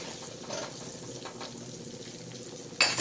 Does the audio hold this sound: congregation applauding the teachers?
no